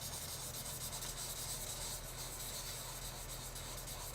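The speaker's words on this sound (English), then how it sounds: "I'm sanding it off in the movement that I think is going to be conducive for this" Sanding across a smooth Claybord panel makes a steady, close scratchy rub that runs continuously with a low mains hum underneath and no talking.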